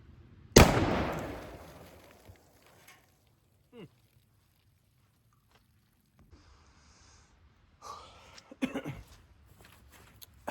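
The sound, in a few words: Remington Tac 14 shotgun firing rifle slugs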